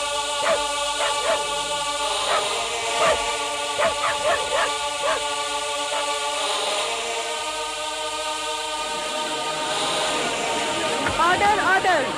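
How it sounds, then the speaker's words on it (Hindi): A dog barking and lunging at a shirt in a courtroom, repeated sharp barks in rapid bursts over a sustained musical background, fairly loud. "इस कुत्ते ने सिर्फ इस कमीज पर झपटा मारा, बाकी की कमीजों पे झपटा नहीं मारा।"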